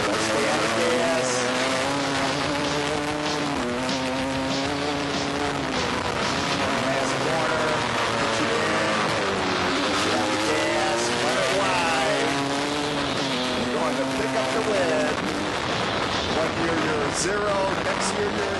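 Racing motorcycles, including a 250 WR, roar around a frozen ice track at a 2005 winter ice race, with continuous loud engines whining and shifting pitch throughout as a rider talks over them.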